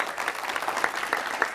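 A community gathering on a street peace initiative gives a brief round of applause for clergy task force members, a thin, scattered patter with a few sharper individual claps standing out.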